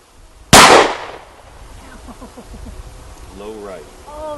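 A single sharp, loud gunshot from a Jimenez Arms JA Nine pistol cracks out near the start, followed by a short ringing decay, then people talk quietly afterward.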